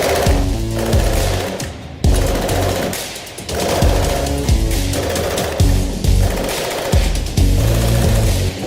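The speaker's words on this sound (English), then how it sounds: "So the harder I push on the foot pedal, the harder it drives that piston and allows me to do the hammering." A foot-pedal-driven power hammer rapidly dimples steel sheet to texture a dragon's wing, loud and close, pounding in fast continuous bursts with brief pauses between passes.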